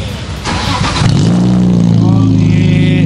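A BMW E36 323i engine revs up, rising into a loud, close throaty roar that holds steady, with a voice briefly audible at the start.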